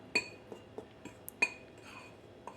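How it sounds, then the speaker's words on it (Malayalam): A fork clinking against a bowl while mixing flour and spices for a plum cake, a series of sharp close metallic taps at irregular intervals over a quiet background. "ഇനി ഒരു ഫോർക്ക് വെച്ചിട്ട് നന്നായിട്ടൊന്ന് മിക്സാക്കി കൊടുക്കാം"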